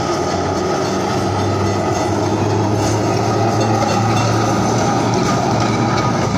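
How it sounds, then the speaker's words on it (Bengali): A tram rumbles past close by on a Kolkata street, loud and steady, its wheels clattering and rattling over the rails throughout. "দেখো ট্রামটা যাচ্ছে।"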